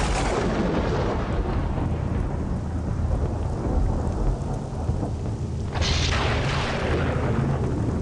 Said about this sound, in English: Thunder echoes in the realm as the winds howl with fury across a landscape of jagged black mountains.